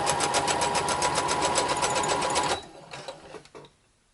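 A sewing machine runs a straight stitch along a pilot belt near the buckle, a fast loud rhythmic chatter for about two and a half seconds, then stopping, followed by a few faint clicks and handling sounds.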